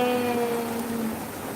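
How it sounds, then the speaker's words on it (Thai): Heavy rain pouring outside, a dense continuous wash of noise with a faint steady tonal hum over it, brief and fairly loud. "ฝนตกหนักมากเลยตอนนี้"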